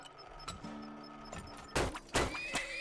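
Horses in the video game Turmoil whinny, with a drawn-out neigh followed by sharp thumps and hoof clatter, fairly loud and with no talk.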